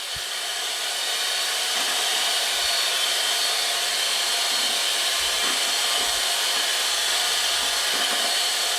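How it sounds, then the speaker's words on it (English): An electric mixer beats cake batter in a bowl for a four-layer raspberry cream cake, giving a steady, continuous motor whir at close range with no talking. "Make sure you mix it all the way down to the bottom of the bowl and all around."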